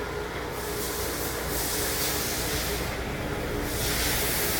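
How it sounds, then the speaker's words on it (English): Steam hisses steadily from an industrial five-stage parts washer cleaning bare metal pieces, a loud, continuous broadband rush that surges slightly at times and runs without a break. "Now, it's going into a 5-stage washer."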